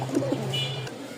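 Giribaz pigeons coo softly up close in a couple of brief low notes, with faint background hum.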